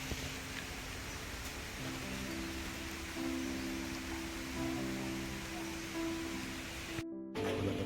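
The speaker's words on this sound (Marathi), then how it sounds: "हलका असा पाऊस पण सुरू झालेला आहे आता" Light rain falling in rainy Konkan, a soft continuous patter with a low steady pump hum running underneath.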